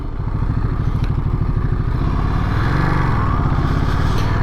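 A 2023 Ducati Monster motorcycle rides through city streets, its engine a steady, loud, close rumble throughout, rising and falling slightly in pitch as the throttle changes, with some clatter and thumps underneath.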